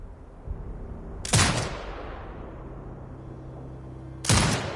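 Two heavy turret shots boom in Sniper Ghost Warrior Contracts 2, each a sharp loud blast with a rumbling tail, spaced about three seconds apart over a low background hum.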